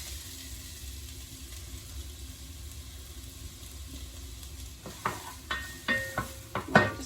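Chopped onion hits a hot pan for a butternut rogan josh and begins sizzling, a quiet steady fry that grows into louder scraping stirs and clatters near the end.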